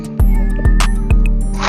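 A cat meows three times in quick succession, loud and close, each call a rising, insistent cry.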